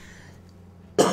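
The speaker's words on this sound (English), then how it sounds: "I'm so tired of coughing." A single loud, close cough bursts out at the very end, following a quiet stretch of low hum.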